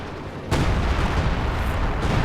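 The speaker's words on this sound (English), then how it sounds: "And I called artillery down somewhere." An artillery strike lands in Company of Heroes 2, a sudden loud boom that swells into a sustained roaring rumble of explosions.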